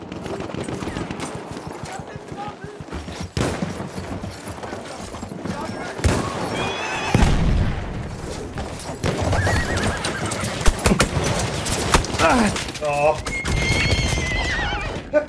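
A horse whinnies loudly on a Battlefield 1 battlefield, its hooves clip-clopping close by amid bursts of gunfire and explosions, with a person talking over the chaotic scene.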